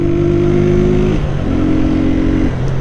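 A motorcycle fitted with a loud aftermarket Estralador exhaust revs steadily at close range, its engine note rising and holding in two sustained pulls with a brief dip between them.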